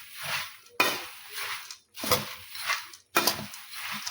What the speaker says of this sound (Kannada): ಈಗ ಚೆಂದಾಗಿ ಮಿಕ್ಸ್ ಮಾಡ್ತಾರೆ.